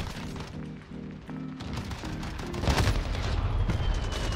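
Gunfire in a first-person shooter video game using an AR with a sniper scope rattles in rapid bursts with thumping booms, growing denser and louder over a continuous background of game sound.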